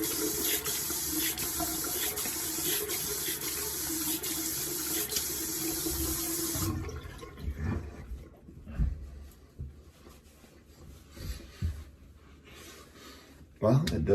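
Tap water runs steadily into a sink for about seven seconds while something is rinsed off, then shuts off, leaving quiet handling sounds and a short splash near the end.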